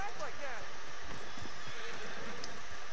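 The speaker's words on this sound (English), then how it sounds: "Well, I'm trying to get on the horse" A horse in Red Dead Redemption 2 whinnies with a descending neigh near the start, followed by scattered hoof thuds and shuffling as it moves about, all over a steady outdoor game ambience.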